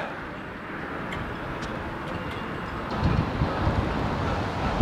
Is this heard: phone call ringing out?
no